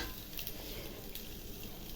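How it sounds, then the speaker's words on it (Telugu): Onions sizzling and frying in hot oil with dried red chillies for an onion peanut chutney, a steady close crackle with occasional stirring, no voices. "నెక్స్ట్ ఇప్పుడు ఆనియన్స్ వేసి వేయించుకోవాలండి."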